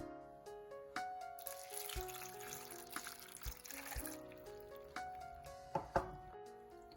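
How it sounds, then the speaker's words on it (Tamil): Coconut water and tamarind water are poured over bitter gourd in a pan, giving a soft, close splashing and trickling with a few drips and light clinks, fairly quiet throughout. "இந்த இளநி தண்ணியையும் புளி கரைச்சி வச்சிருக்கிறேன். அதையும் இந்த பாகக்காய்க்கு சேர்க்க போறேன்."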